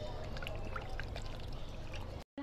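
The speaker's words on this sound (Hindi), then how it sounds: "करेले हैं जो हम 3 से 4 पानी धोएंगे ताकि जो नमक है वो अच्छी तरह से निकल जाए।" Salted bitter gourds are rinsed in water in a kitchen, producing a steady close pouring and sloshing sound that cuts off abruptly at the end.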